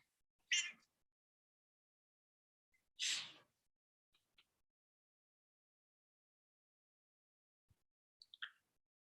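A cat meows in two distinct, fairly loud calls a few seconds apart, followed by a couple of faint, brief chirps near the end, otherwise surrounded by near silence.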